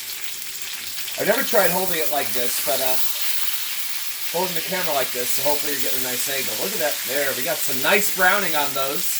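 Seven chicken thighs fry in a crowded cast iron skillet, browning on one side, giving a loud, continuous crackling sizzle under a man's close, steady talking.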